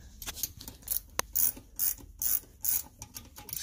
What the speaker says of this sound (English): I'm just going to take a wrench